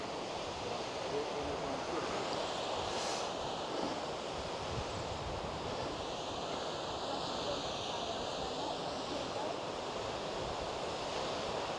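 Water spills over Lal Lal Falls on Lal Lal Creek in Victoria, Australia: a steady, even rushing wash that holds without a break, heard from a distance and mixed with soft outdoor air noise.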